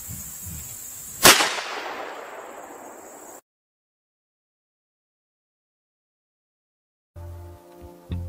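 A single loud rifle shot fired at a bison outdoors, a sharp crack with a long fading echo, followed by silence and then faint handling noise and thumps.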